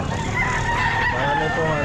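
A rooster crows loudly and close at a busy Sta. Maria pet market, one drawn-out call with other fowl faintly in the background.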